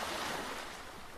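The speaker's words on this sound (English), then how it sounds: "The sound of waves and the clattering of the ghost crabs are signs that the sisters have arrived" Ocean waves wash onto a nesting beach in a steady, broad rush of surf, close and continuous for the whole moment with no voices.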